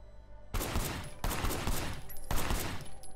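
Gunfire in the Sleeping Dogs video game comes as three loud, sharp bursts of rapid shots in quick succession, each ringing briefly into the next, with no talking.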